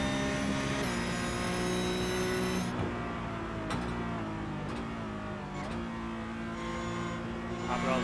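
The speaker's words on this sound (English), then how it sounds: "Mothral very smooth on the downshifts" Porsche Cup race car at Watkins Glen in a racing video game, its engine note dropping in steps through several downshifts, with a steady high whine and a commentator talking over it.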